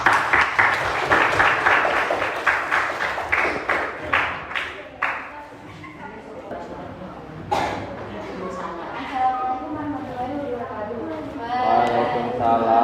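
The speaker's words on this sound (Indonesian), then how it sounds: "Silakan tepuk tangan untuk kelompok 3" A classroom group claps in a burst of applause that fades after several seconds, followed by voices talking.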